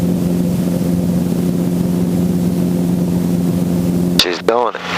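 A training helicopter at maximum power during takeoff gives a steady, loud engine and rotor drone that holds for about four seconds, then cuts into a short burst of close, distorted sound.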